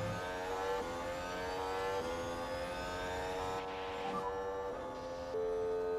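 McLaren race car in F1 Manager 23 driving past, a revving engine whine whose pitch sweeps and shifts over a few seconds, heard alone at moderate loudness.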